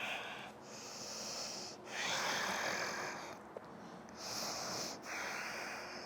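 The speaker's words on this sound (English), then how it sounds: "We take an inhale here. We exhale to release." Slow, deep breathing during a vinyasa yoga flow, long airy inhales and exhales alternating close to the mic, with a slightly wheezy, nasal edge and no talking.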